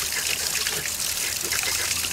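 Cold flowing water trickles steadily in a backyard stream where someone scoops it up by hand to drink, a close, continuous watery rush with no talking.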